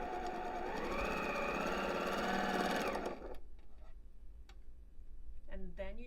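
A Bernette B08 straight stitch sewing machine runs a fast, continuous stitching burst through quilting fabric for about three seconds, then stops, leaving faint clicks and brief speech.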